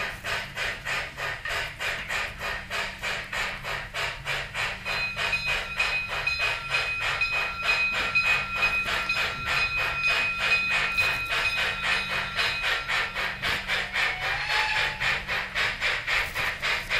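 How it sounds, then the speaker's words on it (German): An ESU model BR 94 steam locomotive, number 94 1292, puffs out steady rapid exhaust chuffs in a continuous rhythmic beat over a constant mechanical hum, with a faint whistle-like tone running through the middle. "Sieht wunderschön die Auspuffschläge und wie der Dampf hochkommt."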